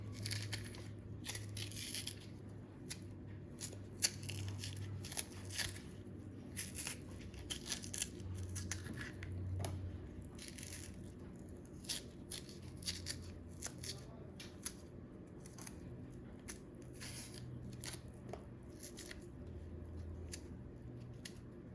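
Matoke bananas peeled by hand, with soft crisp tearing and snipping-like skin sounds repeating in quick irregular bursts over a low steady background hum, close and fairly quiet.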